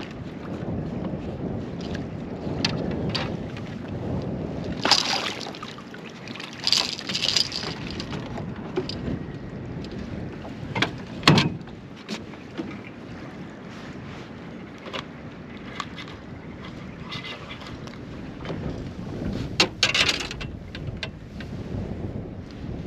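Strong wind on Lake Liepāja gusts steadily against the microphone, a rough continuous rumble with louder bursts and faint knocks of a small boat on the water, with no voices.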